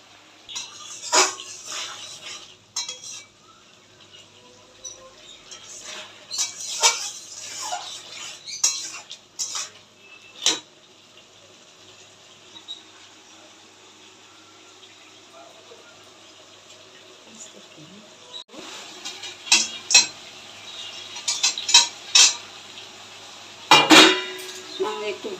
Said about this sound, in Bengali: এখন বেগুনটা ছেড়ে দিচ্ছি।